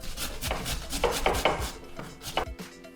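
Onions and tomatoes being grated by hand in a rough home kitchen, a run of scraping, rasping strokes in an uneven rhythm, close and fairly loud with no talking.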